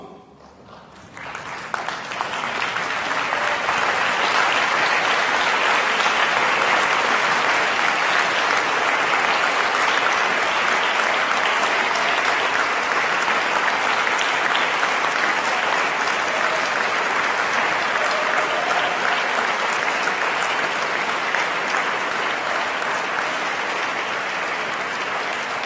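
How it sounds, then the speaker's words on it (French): Standing graduates of a permanent-education faculty at a 2015 graduation ceremony applaud their families: after a brief quiet start, a loud, dense, sustained roar of clapping from a large crowd continues steadily to the end. "Je vous demanderai donc, chers bachelières et bacheliers, de vous lever et de les remercier par vos applaudissements."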